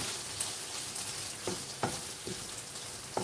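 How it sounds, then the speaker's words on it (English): Onions fry in a pan over reduced heat, giving a continuous close sizzle, while a spoon scrapes through them in a few distinct strokes as they are stirred. "So I've reduced the heat now so I can stir it all together."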